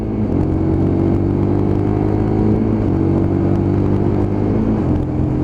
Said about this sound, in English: But just goes through the box very, very quick to 6th gear.